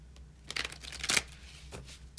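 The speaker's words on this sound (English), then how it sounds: "I'm being guided to just pull one more card here for you." A single tarot card pulled from the deck, a few soft papery flicks and one sharper swipe, close and quiet, with no voice.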